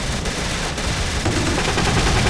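Autocannon rounds exploding in a Battlefield Vietnam mod make a dense, loud, continuous crackle of rapid blasts with no gaps and no talk.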